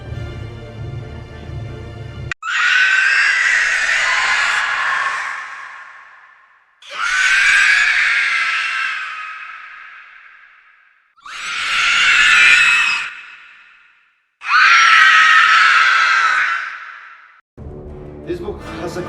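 A voice imitates the shriek of the Nazgûl, Tolkien's Ringwraiths, in four long, loud, harsh screams separated by brief silences, each swelling then fading away.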